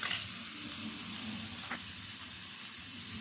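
Chopped tomato and capsicum sizzle steadily in a frying pan with only a little oil, a constant close hiss with faint stirring and no voices.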